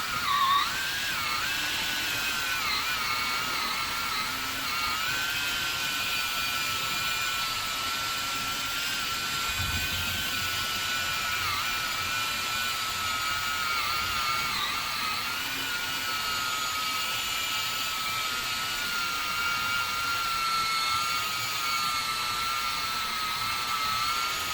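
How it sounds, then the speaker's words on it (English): A small battery-operated polisher with a medium cut works scratches out of carbon fibre door trim on a Porsche 993 Turbo S, a steady high electric whine that holds nearly unchanged throughout, close and continuous. "using the little battery operated polisher, I'm just going to try and remove some of the scratches"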